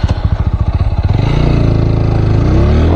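A Bajaj-built TVS Apache 200 motorcycle on a long highway ride in Nepal, close and loud: a pulsing idle-like putter that rises into a smooth, steady engine drone as it revs and pulls away.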